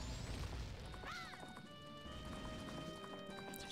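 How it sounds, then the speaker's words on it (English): Epona, the horse in a Zelda video game, gallops with a steady rapid clip-clop of hooves under layered game music and effects, loud and continuous throughout. "Get up there on that horse."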